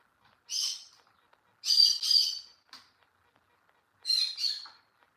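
A pet bird squawks loudly indoors, five harsh, shrill calls in three clusters with short silent gaps, close and with no talk over them.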